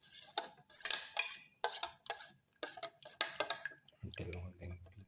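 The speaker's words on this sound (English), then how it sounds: "until all the ingredients are nicely mixed. Thoroughly mix." A fork whisks an egg mixture with garlic and black pepper in a bowl for an omelette. It makes quick rhythmic clinks in bursts against the bowl, close and crisp, with short pauses between strokes.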